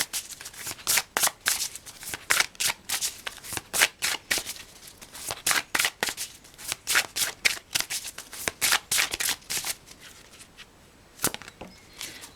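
A deck of oracle cards is shuffled by hand in quick repeated riffles and snaps, a dense rhythmic patter of crisp card slaps that runs steadily and close, with no talk.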